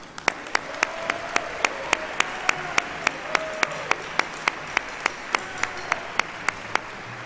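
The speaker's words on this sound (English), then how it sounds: "Would you please give a round of applause for Ethan Dupre?" Audience applause at a school spring concert: a soft wash of crowd clapping under loud, evenly spaced claps from one person close by, keeping a steady quick rhythm throughout.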